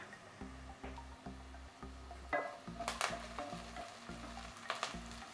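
Onions and homegrown curry leaves fry in a pan while a spoon stirs them in regular, evenly spaced scraping strokes over a soft sizzle, close up and without talk.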